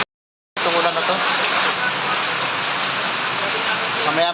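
Steady, dense rain falls continuously after a brief silent start, a loud close hiss of drops on surfaces with no pauses, during a spell of persistent rainy weather.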